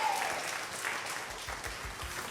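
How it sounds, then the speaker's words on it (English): An improv theatre audience claps for three volunteers, moderately loud sustained applause from a crowd, with a few low thumps underneath and no talk. "Round of applause for Eva, Mitch, and Grace."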